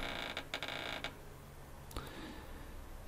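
A drawer being pulled open in Resident Evil Code Veronica, heard as a few short creaks and mechanical clicks spaced over a few seconds against a quiet game backdrop.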